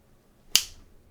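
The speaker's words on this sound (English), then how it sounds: "so I will just snap my fingers, and then the new design will be built" One sharp finger snap cracks out in a quiet room and trails off briefly. It is crisp and close, with silence on either side.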